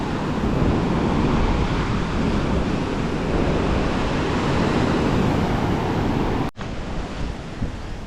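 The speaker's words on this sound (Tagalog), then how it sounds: "Since sobrang lakas ng alon." Heavy ocean surf roars continuously at a beach on Siquijor Island, a broad, loud wash of breaking waves with wind noise buffeting the microphone, briefly cutting out near the end.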